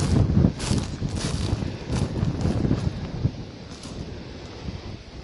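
Gusty wind buffets the microphone on a riverbank during spinning-rod fishing from the shore, coming as uneven soft rushes and thumps, stronger at the start and easing later, with no one speaking.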